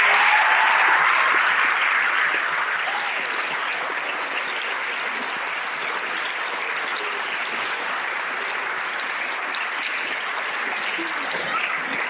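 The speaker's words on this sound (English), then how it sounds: "We give one more round of applause for our 3 superstars" An audience gives a long round of applause at an awards presentation, loud dense clapping that starts strongest and settles into a sustained, even roar.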